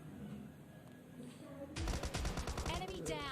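An S686 double-barrel shotgun fires in PUBG Mobile Lite: quiet game ambience, then a loud burst of rapid, close gunshot blasts repeating for over a second.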